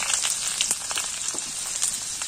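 Chopped tomatoes and slit green chillies sizzle in hot oil with turmeric in a pan, a steady close hiss with faint crackles throughout and no voices.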